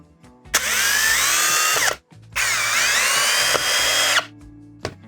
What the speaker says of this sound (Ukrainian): Патрон знімемо та встановлюємо біту та будемо вкручувати 55-й саморіз у сосну